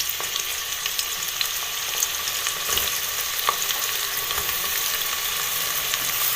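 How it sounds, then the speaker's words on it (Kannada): Onions frying in hot oil over a fast gas flame, a steady bright sizzle with small crackles and pops, alone and fairly close. "ಮತ್ತೆ ನೀರುಳ್ಳಿ ಪಾಡಿ ಫ್ರೈ ಮಾಡ್ಕೊಂಡಿಲ್ಲ."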